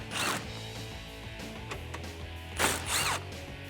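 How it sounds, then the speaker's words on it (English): Ratcheting clicks of a 10mm socket wrench loosening the two top headlight bolts on a 2012-2015 Toyota Tacoma, heard in a few close bursts of mechanical clicking with short pauses between them. "we can remove the 2 10mm bolts on the top of the headlight. Grab your 10mm socket and get these out."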